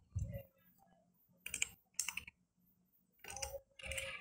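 File-name typing on a computer keyboard in a quiet room, heard as a few short, separate bursts of key clicks with pauses between them, close and soft.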